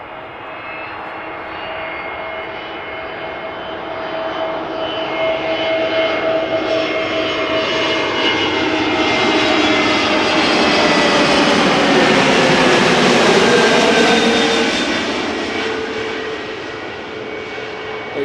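Airliner passing close on its landing approach to Amsterdam Schiphol Airport's Kaagbaan runway: a loud jet roar that swells steadily, with whining engine tones sweeping downward as it passes overhead, then fades slightly toward the end.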